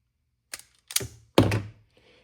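Three short clicking snips, a crimper or stripper closing on electrical wire one cut after another, close and fairly loud with quiet gaps between, the last one the strongest.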